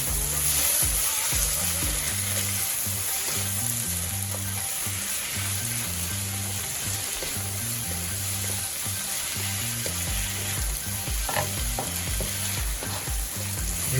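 Chicken noodle stir fry with oyster sauce and bonnet pepper sizzles loudly in a hot pan, a steady crackling fry with scraping stirring strokes throughout, close by.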